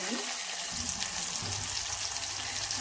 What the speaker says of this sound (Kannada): ಈರುಳ್ಳಿ ಮೇಲೆ ಒಂದು ಎರಡು ನಿಮಿಷ ಈರುಳ್ಳಿದು ಹಸಿ ವಾಸನೆ ಹೋಗೋವರೆಗೂ ಫ್ರೈ ಮಾಡ್ಕೊಳ್ಳಿ